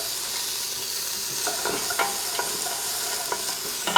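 Chopped shallots, celery and carrots sweat in a pot, giving a soft, steady sizzle with a few light stirring scrapes and clicks. The sound is fairly faint and heard without voices.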